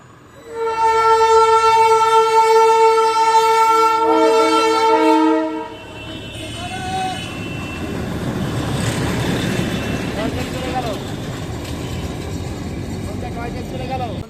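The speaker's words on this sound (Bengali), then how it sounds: "টয় ট্রেন চলে গেল।" Darjeeling toy train sounding a loud, sustained horn for several seconds, then rumbling and clattering past nearby as the horn stops.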